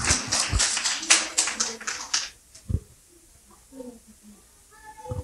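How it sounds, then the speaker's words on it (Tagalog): An audience at a church awards ceremony gives a short burst of clapping for the recipients, lasting about two seconds before dying away into near quiet with faint scattered sounds. "Bigyan po natin sila ng malakas na palakpak."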